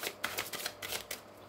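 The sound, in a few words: shuffling oracle cards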